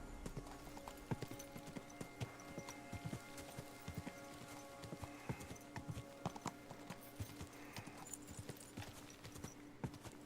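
Quick, rhythmic clip-clop of horse hooves trotting steadily over a soft background hum in the game Kingdom Come: Deliverance 2, with a synthetic game-like quality.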